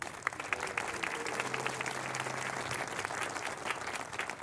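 A crowd at a Great Falls Municipal Band concert applauds the sponsors, with steady, moderately distant clapping holding evenly throughout and a brief low hum in the middle.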